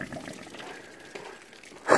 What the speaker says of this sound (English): Drain the hot water heater.